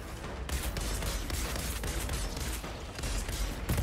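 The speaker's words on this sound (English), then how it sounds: "My shotgun shoots little grenades when people die." Rapid shotgun fire and small grenade bursts in the video game Outriders, a dense, continuous run of loud shots and explosions with little pause across the whole stretch.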